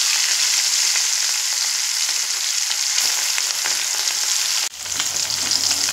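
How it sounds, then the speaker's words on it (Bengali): Fish pieces rubbed with salt and turmeric fry in hot mustard oil for aam rui, giving a loud, steady crackling sizzle close up. The sound shifts abruptly near the end as the pieces are moved in the pan. "এবার যে মাছ আমি লবণ হলুদ মেখে রেখেছি মাছগুলো ভেজে নেব।"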